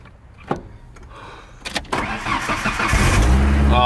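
A car engine, on a vehicle nicknamed the Danger Ranger, cranks and catches near the end, then settles into a loud, close, rumbling idle, after some faint clicks and handling noises inside the cabin.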